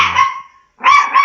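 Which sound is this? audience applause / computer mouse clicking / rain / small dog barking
small dog barking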